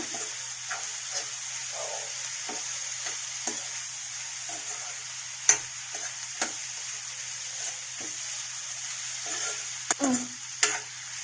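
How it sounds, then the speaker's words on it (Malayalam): Diced potatoes and capsicum frying in a curry pan with turmeric, with a soft steady sizzle under scattered scraping and clinking strokes of a spoon being stirred, the sharpest taps near the end. "ഇനി ഇതിലേക്ക് നമുക്ക് അരിഞ്ഞു വെച്ചിരിക്കുന്ന ഉരുളക്കിഴങ്ങും ക്യാപ്സിക്കവും ചേർക്കാം. നല്ലപോലെ ഇളക്കുക."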